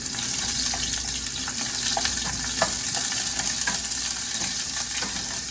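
Onions sizzling in hot cooking oil for ginisang ampalaya with eggs, a dense steady crackle with small sharp pops scattered through it, close and constant with no talking.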